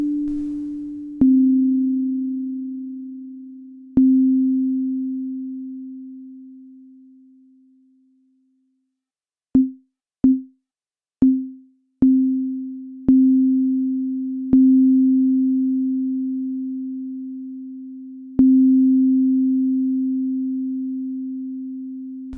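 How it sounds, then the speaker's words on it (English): Synthesizer sine note with a steady pitch that swells with each retrigger and then fades out gradually over a long release, the quiet tail holding alone before a run of quicker retriggered notes that each decay. "A short release time means it fades out quickly, whilst a long release time will have the sound fade out slowly."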